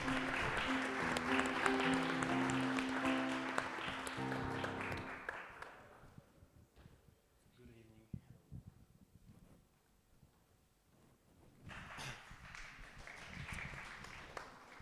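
At a startup pitching competition, music fades into a quiet stretch before a burst of audience clapping swells up near the end and carries on steadily.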